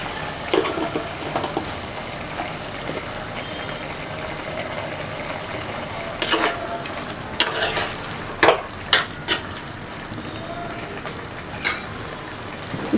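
Mutton chukka frying in a pan, a steady sizzle running throughout with scraping stir strokes clustered near the end, close and fairly loud, no talking.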